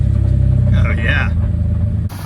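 The 4-liter engine of a rattly, rusty 2000 Jeep Cherokee XJ runs with a low, pulsing rumble beneath a person talking. The sound cuts off abruptly just before the end.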